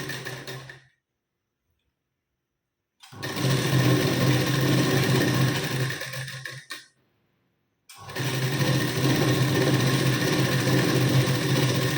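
A sewing machine stitches blouse lining cross strips together in two long steady runs, loud and continuous, separated by a silent pause and a short stop.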